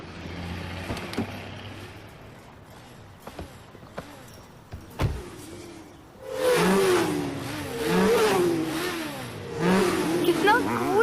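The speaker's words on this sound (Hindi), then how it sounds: "वहाँ पर एक स्टंट बाइक शो हो रहा है" Stunt motorcycles at a bike show break into loud, close revving after a quieter stretch with scattered knocks, engines surging and falling in repeated bursts; voices are faintly present early on.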